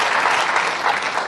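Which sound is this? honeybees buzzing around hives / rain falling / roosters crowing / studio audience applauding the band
studio audience applauding the band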